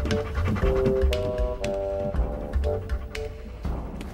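A dog tracking a scent pants and sniffs rapidly up close, with rhythmic breathy huffs and scratchy bursts over a steady background tone, no speech heard.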